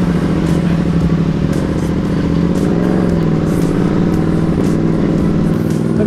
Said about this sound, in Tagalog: parang nagbago yung tunog ng motor ko.